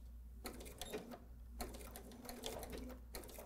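A BERNINA sewing machine stitching in reverse while making a fabric table topper, with two close, fast buzzing runs of needle stitches separated by brief pauses.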